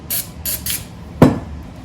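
Carb or brake cleaner sprayed into an engine head from a 413/426 engine, three short close hissing spray bursts followed by a sharper metallic clunk, with quiet between.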